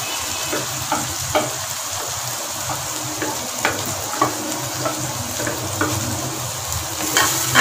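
Mashed brinjal for baingan bharta stirred into oily frying masala in a pan, a constant close sizzle with soft repeated scraping strokes of a spoon.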